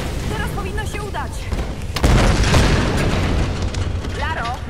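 A deep booming explosion in the video game Tomb Raider: Definitive Edition, a loud burst with a rumbling tail that sits among game dialogue and a player speaking over it.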